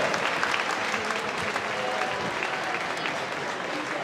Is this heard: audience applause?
yes